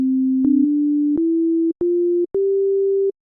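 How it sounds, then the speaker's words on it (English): A pure sine tone from a Serum wavetable synth plays as five clean notes, each stepping slightly higher in pitch, separated by short clicks and gaps, loud and alone. "the sine wave, which sounds like this."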